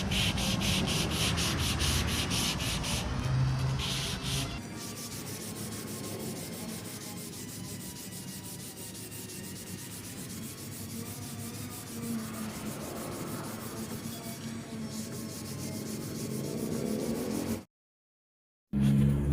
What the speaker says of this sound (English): I'm going to sand this smooth with this 320 on this soft pad.